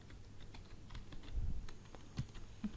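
Someone types on a computer keyboard nearby, producing quiet, irregular clicking keystrokes in short bursts against a faint background hum.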